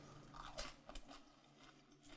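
Close, quiet crunching bites into crispy air-fried onion rings, a few distinct crackles followed by softer chewing.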